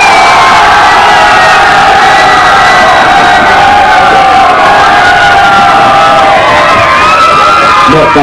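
A boat party crowd cheering and shouting for the green team, a loud, dense, continuous roar of whoops and yells from many voices at close range.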